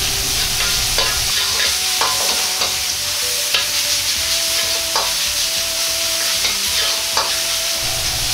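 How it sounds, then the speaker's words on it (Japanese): Ground pork stir-frying in a pan while a ladle breaks up the clumps, giving a constant loud close sizzle with scraping and tapping strokes of the ladle throughout, no voices. "お玉の裏を使ってひき肉の塊をほぐしながら炒めていきます。"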